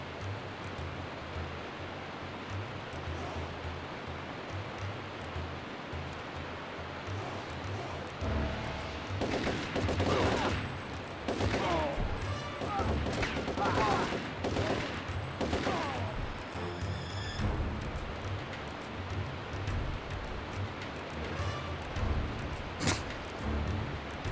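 Rapid bursts of gunfire from the video game Turok 3: Shadow of Oblivion crackle in clustered volleys over a low ambient hiss, with quieter stretches before and after.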